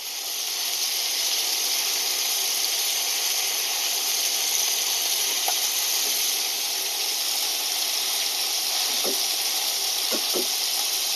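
Barbecue meat with sugary ketchup cooking in a pan over a strong flame, a steady, loud sizzle and hiss that continues throughout, with a few faint knocks near the end.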